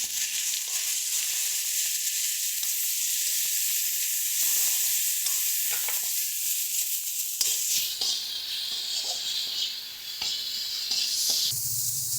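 Spices with chilli powder and salt sizzle in a hot pan while being stirred, a loud, continuous frying hiss with scattered scraping strokes, close by and without voices.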